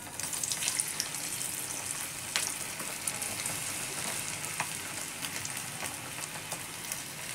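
Potato pieces frying in hot oil for a Bikaner-style snack, a continuous close crackling sizzle with small pops, no talk over it.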